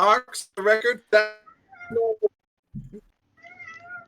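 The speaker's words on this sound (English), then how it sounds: "Yeah, sorry, that's my cat." A pet cat meows several times in close succession near the microphone, with people talking just before the meows.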